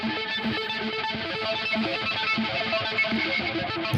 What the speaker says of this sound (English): I've got a big heavy distortion device here.